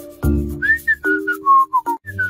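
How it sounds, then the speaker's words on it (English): Someone whistles a short tune, a series of clear sliding notes, close and fairly loud, with a musical backing of low tones underneath. "Who's that kid that's whistling?"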